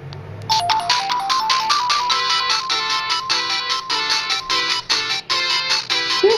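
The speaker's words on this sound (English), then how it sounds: "I should see a Sonic Green Hill Zone ringtone." A bright, chiptune-style video game melody plays as a ringtone, rapid repeating electronic notes, clear and loud with no voices.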